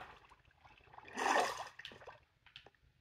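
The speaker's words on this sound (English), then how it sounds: "Was the water always that loud?" Flowing water in the video game Minecraft rushes up in a brief loud swell, then settles into faint trickles and drips.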